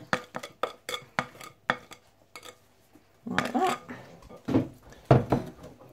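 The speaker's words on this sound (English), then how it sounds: "Okay, just scrape it out of the bowl." Cake mixture for a syrup sponge pudding is scraped from a mixing bowl, a series of sharp spoon taps and clinks against the bowl followed by softer scraping and a few louder knocks, close by.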